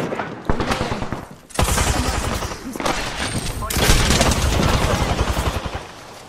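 Rapid bursts of automatic gunfire in the video game Apex Legends, dense rattling volleys that pause briefly and resume, loud and close throughout the clip.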